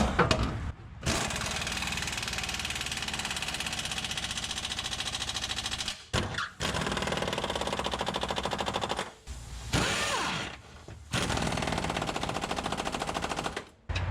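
A half-inch impact wrench hammers on the big rear subframe bolts of a Lexus SC300 while SuperPro subframe inserts are fitted, firing in long, loud rattling bursts broken by short pauses, with no talk.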